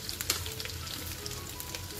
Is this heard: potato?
yes